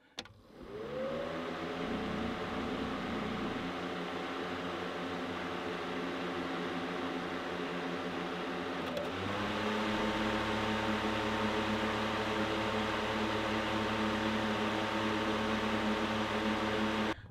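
A Rode Pro electric fan runs inside a van, a steady whirring hum with tonal motor whine that spins up at the start, shifts pitch midway as the setting changes, then continues evenly, close and without talk.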